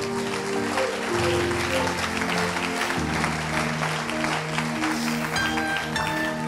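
A church congregation applauds steadily, a dense wash of clapping that carries through the whole stretch beneath sustained organ or keyboard chords, with a voice faintly mixed in.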